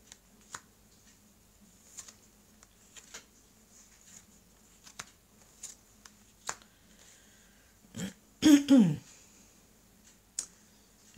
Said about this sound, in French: je vais... tailler les cartes